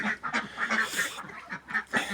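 Crested ducks being added to a flock quack repeatedly in quick, overlapping calls, close and fairly loud, with no talking.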